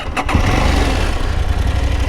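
Engine of a KTM 890 Adventure motorcycle running steadily, a continuous low rumble with a brief sharper burst near the start, heard close and alone without talk.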